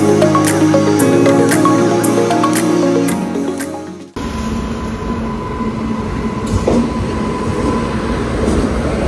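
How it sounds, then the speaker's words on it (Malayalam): A Kottayam–Hubli special train hauled by a WG9 goods locomotive is heard at a railway station, first a loud horn-like tonal blare, then a steady rumbling roll of passing wagons up close, with no talk. "ഇത് കോട്ടയത്ത് നിന്ന് ഹൂബ്ലി പോകുന്ന ഒരു സ്പെഷ്യൽ ട്രെയിനാണ്"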